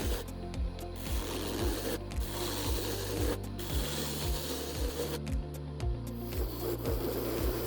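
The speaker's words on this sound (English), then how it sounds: "I start by turning a cylinder from a block of wood." A wood lathe turns a block of wood into a cylinder, giving a steady, close rasping scrape with a rhythmic mechanical tick under it and brief pauses throughout.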